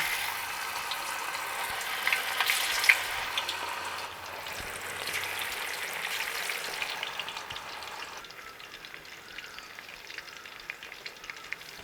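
Chicken deep-fries in hot sunflower oil for Chinese-style orange chicken, a loud, bubbling crackle that stays dense and close, then settles into a softer, thinner sizzle in the last few seconds.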